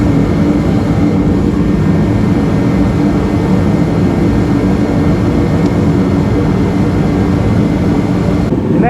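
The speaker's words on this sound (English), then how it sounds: "I'm gonna cut the big jet heater." A big jet heater blows warm air in a paint shop setting, a loud steady roaring rush that stays constant throughout with no talk.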